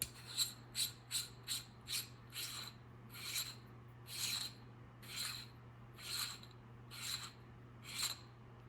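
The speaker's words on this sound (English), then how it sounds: "this cap is going to unscrew" Metal end cap of a B&T APC9K SD suppressor being unscrewed by hand, giving a series of about eleven short dry rasping scrapes in steady rhythm, close and quiet, with no talking over a faint steady hum.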